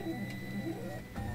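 A 3D printer lays down its first layer, giving a steady low mechanical hum with faint stepper-motor whine and small clicks, fairly quiet and continuous.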